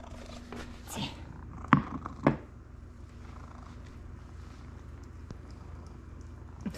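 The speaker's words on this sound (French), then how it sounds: "qui ronronne en mangeant" Soft, low purring rumbles steadily close by, with a few faint clicks and smacking sounds of eating breaking through.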